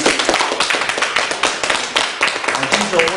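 An audience at a church training forum claps in a dense burst of rapid, close handclaps, with voices talking over them.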